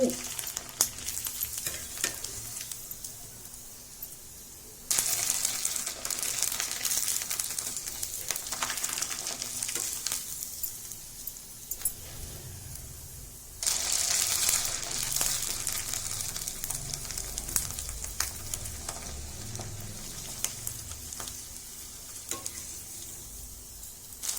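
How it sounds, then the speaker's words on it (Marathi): Sabudana kurdai fry in hot oil with a dense, bubbling hiss that runs throughout, surging louder twice as fresh pieces drop in, with occasional crackles and pops and no voices. "मी तुम्हाला आधी तळून दाखवते बघा तळल्यावर किती छान येतात"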